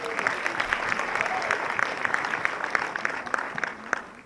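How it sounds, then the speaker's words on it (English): Applause from an audience at a Rotary installation event, a steady dense patter of many hands clapping throughout at moderate level, with faint voices mixed in. "Please clap for her."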